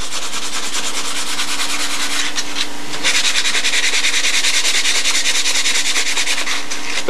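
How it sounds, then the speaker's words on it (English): 320-grit sandpaper rubbed by hand along an edge, a close, continuous rhythmic scratching with steady back-and-forth strokes that grow slightly louder partway through. "put a little 320 around it and work the surfaces in there nice"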